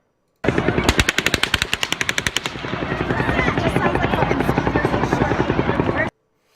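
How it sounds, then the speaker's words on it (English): Rapid automatic gunfire from two guns rattles loudly during the Route 91 shooting in Las Vegas, a sharper, closer, faster burst at first overlapping a steadier stream of shots that continues underneath. "all of a sudden, right about here, another gun starts firing"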